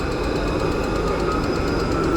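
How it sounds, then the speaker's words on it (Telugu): Trams run along the middle of a Melbourne street, a steady rumbling rail drone with faint clicking, heard at moderate level without talk. "రోడ్డు మధ్యలో ట్రైన్లు వెళ్ళిపోతున్నాయి."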